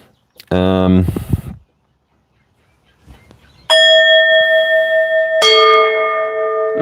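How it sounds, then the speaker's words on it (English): A bell is rung by hand during a livestream, giving two bright ringing strikes with long sustained tones, loud and close, after a brief buzzy tonal burst and a stretch of near silence. "I'm gonna ring the bell, say hello to chat"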